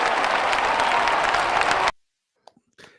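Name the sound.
applause sound effect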